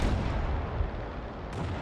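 Heavy boom of a Hummel self-propelled artillery gun firing in a tank video game, a single loud blast that rolls out into a long rumbling decay.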